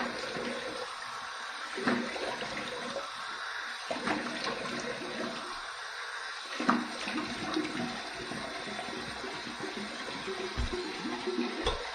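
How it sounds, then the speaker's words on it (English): Warm water running from a tap into a bathroom sink for rinsing after a wet shave, a steady close splashing rush with small gurgles and shifts throughout. "Let's get some warm water and rinse."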